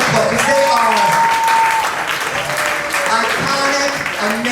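Audience applause at a drag performance show, broad steady clapping filling the clip at fairly loud level, with a few voices and whoops mixed in.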